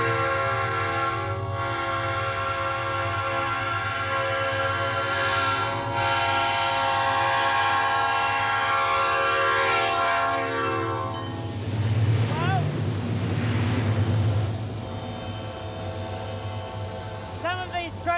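A seven-coach train in the United States rumbles past while sounding a long, sustained horn, joined by a second swelling blast later on, with a voice speaking over it.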